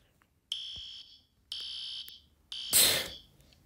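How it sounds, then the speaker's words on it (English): A fire alarm sounds at low volume in three separate electronic tones about a second apart, the last burst harsher and louder than the first two, with nothing else audible. "I think it was Jessica Hammers turning down the fire alarms and making it quietly"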